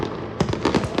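Crackling Diwali fireworks pop in a rapid, irregular burst of sharp bangs against a steady background hiss, loud and fairly close.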